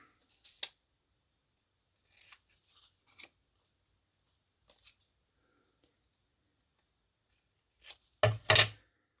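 Scissors cut card for an infinity card craft, a few quiet snips and rustles scattered through near-silence, then a louder, close cluster of crisp cutting sounds at the end.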